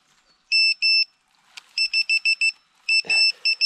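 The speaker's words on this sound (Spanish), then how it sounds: "este pitido es el sistema antirrobo por si alguien encuentra el dron antes que tú" A DJI Mavic Air 2 drone's anti-theft alarm sounds after a crash, sending out loud, close, high electronic beeps in quick repeated bursts of two to five tones, with a brief rustle between the groups.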